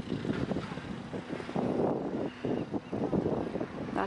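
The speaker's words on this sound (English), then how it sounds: "And it's sort of windy and cold," Gusty, cold coastal wind on California's Central Coast buffeting the microphone outdoors, a rough rumbling roar that rises and falls without pause.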